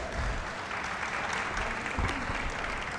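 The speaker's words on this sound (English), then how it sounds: "Let's give them a huge round of applause once again." An audience at a sports conference inaugural ceremony applauds after an electrifying performance, a broad sustained clapping from a large hall crowd, steady and fairly distant with faint murmurs beneath.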